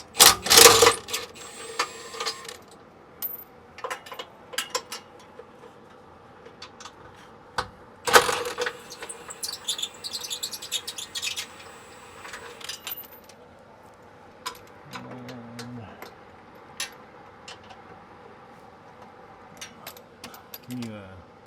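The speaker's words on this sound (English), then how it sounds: "we're going to pull these 3 bolts out" Three ARP bolts being removed from a Steeda brace on a Ford Explorer ST, heard as sharp metallic clicks and ratchet clatter in bursts, with tool clanks near the start and around the eight-second mark over a quiet workshop background.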